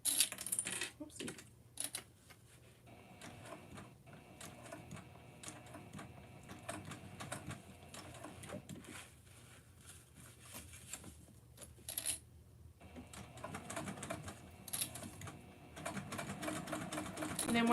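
A sewing machine stitches a fabric bag in long running bursts with brief pauses, close and steady, with faint voice in the background.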